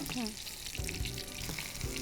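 Chapli kebab frying in oil in a frying pan over medium-high heat, with a steady close sizzle running throughout and a few soft scraping knocks.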